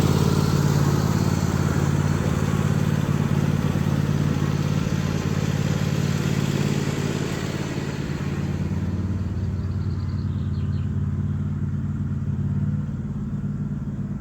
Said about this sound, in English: I'll go and pop Little Red Tractor away